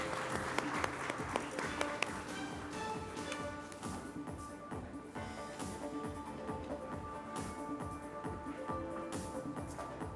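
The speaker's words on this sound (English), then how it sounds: "Huge round of applause." Audience applause at a panel discussion on energy transition, a steady wash of clapping across a hall, held at an even level throughout with no talk over it.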